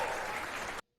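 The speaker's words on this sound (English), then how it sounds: "Let's give a big round of applause for our" A comedy-night audience applauds the comedians with dense, steady clapping that is moderately close, then cuts off abruptly after under a second.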